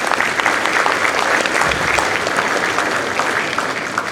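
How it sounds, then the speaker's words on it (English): Steady, dense applause from a large crowd, sustained at full strength throughout with no pauses. "I just want to give you a huge round of applause"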